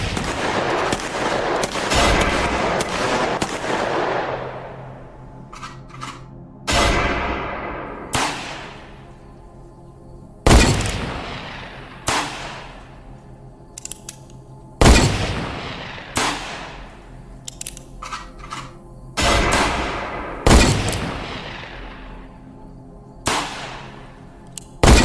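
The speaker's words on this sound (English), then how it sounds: "Sam fired his revolver, and Fred and Wendell let loose with their rifles, totaling 16 shots" Rifle and revolver gunfire, a series of loud sharp shots in irregular bursts, some rapid clusters and some single cracks, each followed by a decaying echo like a canyon, with no talking.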